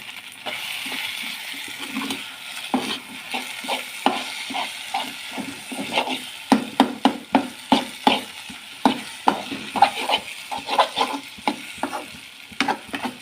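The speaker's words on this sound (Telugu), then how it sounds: "అప్పుడు కలుపుకోవాలి." A spoon stirs garlic-chili egg fry in a sizzling pan, with close, repeated scraping strokes at a steady rhythm over a constant frying hiss.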